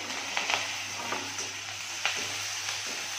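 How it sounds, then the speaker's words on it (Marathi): Asafoetida, onion and curry leaves frying in hot oil in a home kitchen, a steady close sizzle with a few sharper crackles and clinks of stirring, no voices. "थोडंसं हिंग. आता कांदा, मग कढीपत्ता आणि मग कढीपत्ता."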